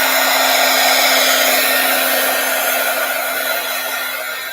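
A hair dryer blows steadily to dry paint on an art project, a loud constant whir with a sharp whine running throughout that tapers slightly toward the end.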